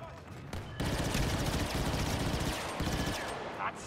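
Heavy blaster gunfire in a Star Wars Battlefront 2 multiplayer match, dense bursts of shots firing almost continuously, loud and close, with brief pauses between bursts.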